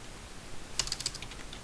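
A short flurry of keystrokes on a computer keyboard, about half a dozen light clicks in quick succession, soft and close in a quiet room with no one speaking.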